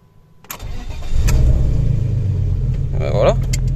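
An old original car's engine cranks and catches after a short pause, then settles into a loud, rumbling idle close by, with a brief rise in revs near the end.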